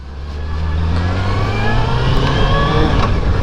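A motorcycle engine drones steadily while riding on an open road, a loud continuous hum with rushing wind and no talking.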